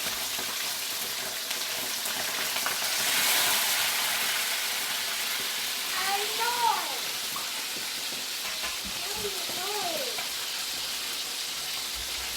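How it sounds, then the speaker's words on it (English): Two fish fry in hot vegetable oil in a pan with a steady, dense sizzle and crackle that never lets up, while someone talks intermittently over the frying. "I'm just gonna put everything in at once because this is just two fish. Okay? And then while that is frying"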